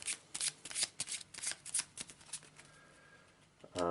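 A quick riffle shuffle of the exhibit item card deck from the Arkham Horror board game, heard up close as a run of crisp, rapid card bursts with a lighter riffle near the end, and no talking.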